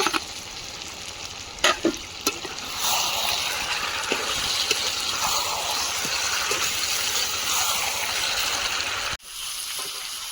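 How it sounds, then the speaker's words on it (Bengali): Water poured into a pot of frying meat and potatoes for a meat-and-potato curry: a few stirring clinks, then a steady broadband rushing sizzle as liquid hits hot oil, ending abruptly near the close, no talking. "এবারে জল দিয়ে দেবো"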